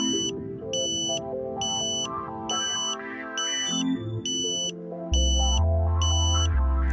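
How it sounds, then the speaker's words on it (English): Satellite antenna alignment locking tone on a Ka-Sat dish setup, a rhythmic series of short high beeps repeating about twice a second over a low electronic hum that deepens toward the end. "You then hear the locking tone."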